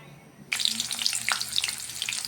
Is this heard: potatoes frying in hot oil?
yes